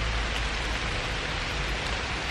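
Steady rain pattering down outdoors beneath trees, a dense even hiss of drops landing on leaves and ground with no pauses and no voices.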